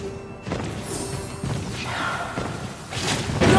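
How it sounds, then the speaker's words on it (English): A turret is destroyed in a Mobile Legends match, heard as a run of thuds, crashes and whooshing impacts from the game that swell toward a louder burst at the end, with no talking. "Your team destroyed a turret!"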